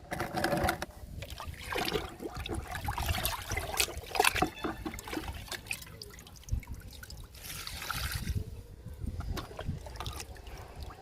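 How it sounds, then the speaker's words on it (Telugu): Kitchen waste liquid poured onto potted plants, soft close trickling and dribbling with intermittent splashes and faint handling knocks, quiet and irregular. "ఇంకా లిక్విడ్ కూడా ఇచ్చేద్దాము, కిచెన్ వేస్ట్ లిక్విడ్."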